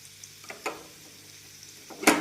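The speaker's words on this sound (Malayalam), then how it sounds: "അതുപോലെ ഇഞ്ചി ഇട്ട് കൊടുക്കാം വെളുത്തുള്ളി ഇട്ട് കൊടുക്കുക മുളകിട്ട്" Ginger, garlic and chili frying in a pan, a soft sizzle near at hand broken by a few stirring scrapes and clinks, the loudest one at the end.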